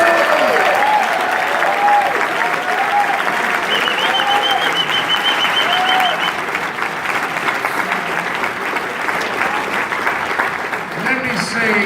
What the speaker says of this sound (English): let's give the panel another cheer.